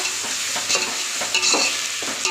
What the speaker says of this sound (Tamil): தக்காளி போட்டுக்கலாம் தக்காளி வதங்கட்டும் நல்லா